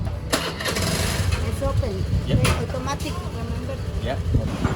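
An old scooter engine sputters and catches, then keeps running with a rough, steady idle, while people talk nearby over the motor.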